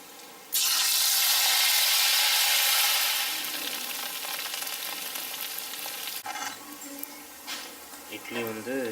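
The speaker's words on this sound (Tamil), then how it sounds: "இதை வந்து இப்போ வந்து எண்ணெயில் போட்டு பொரித்து எடுத்துக்கலாம்." Small leftover idli pieces dropped into hot oil for deep frying, a loud burst of bubbling sizzle that settles into softer steady frying, with a voice briefly near the end.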